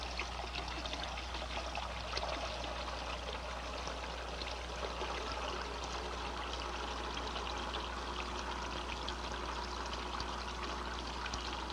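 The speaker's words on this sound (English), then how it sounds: "I'll reduce the volume flow at successive sections by bleeding water from the manifold." Water bleeds from a manifold during a fluid-flow experiment on pressure fields, a steady trickling and pouring sound at low level that holds unchanged throughout.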